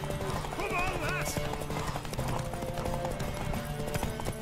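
Galloping horse hooves in The Witcher 3 race, a steady clip-clop rhythm close and loud, mixed with game music and a brief whinny, with voices talking over it.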